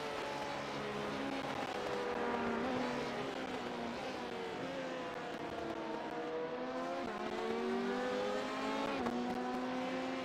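In iRacing at the 24-hour Le Mans race, a slow BMW race car drones at steady high revs, its engine pitch rising and dipping with gear changes, close and continuous with no talk.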